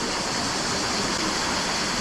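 The Mıhlı waterfall and its stream near Ayvacık, Çanakkale, make a loud, steady rushing roar of falling and flowing water, close and unbroken throughout, with nothing else heard over it.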